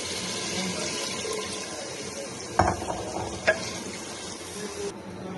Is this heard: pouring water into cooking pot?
yes